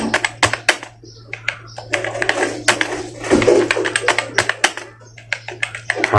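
Hindi text is typed on a computer keyboard in quick, close clicking bursts with brief gaps, and a faint low hum runs underneath.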